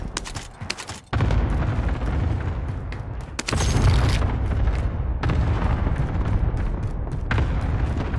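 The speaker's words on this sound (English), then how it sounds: "Cluster strike is active." Cluster airstrike in Call of Duty: Modern Warfare: a sustained roar of overlapping explosions and rumbling blasts, loud and continuous for several seconds after a brief quieter opening, with sharp cracks breaking through.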